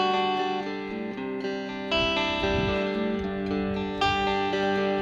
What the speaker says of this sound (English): You can do clean kind of sounds like this.